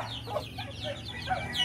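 Pet chickens cluck in a steady, close stream of short calls over a constant low background hum, with no talking.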